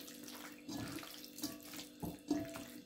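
Running tap water splashes unevenly as hands are washed under it, with soft rushing and intermittent splatters, fairly close and moderately quiet.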